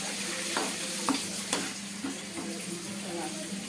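Bitter gourd curry with masala frying in a pan, a steady close sizzle broken by several scraping stir strokes of a spoon.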